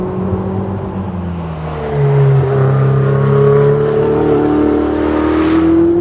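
A Ferrari 488 GTB with a V8 engine pulls hard, its loud, close engine note rising steadily in pitch through a long acceleration and shifting up partway through, with a continuous droning growl and no talking.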